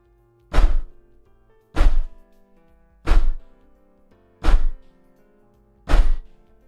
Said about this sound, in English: Bang my desk 5 times.